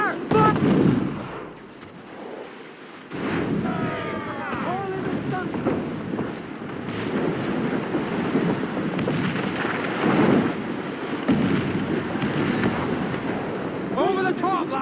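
Gunfire and booming cannon shots in a naval battle in Assassin's Creed IV: Black Flag, repeated loud blasts over wind and sea noise, with shouting voices throughout.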